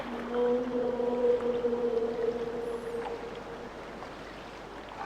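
Whale-like creatures call in the Myst age of Rime, long sustained tonal moans with harmonics drawn out over several seconds above a steady watery wash, with no talk.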